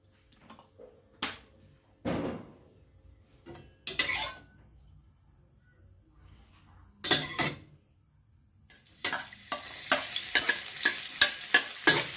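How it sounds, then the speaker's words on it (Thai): Marinated pork with holy basil and curry paste is stir-fried in a hot pan, with scattered spatula scrapes and clanks at first, then a loud continuous sizzle building near the end, close by and without talk. "ผัดกะเพราหมูหมัก นี่หมูที่เราหมักไว้ ผัดกะเพรานะครับ"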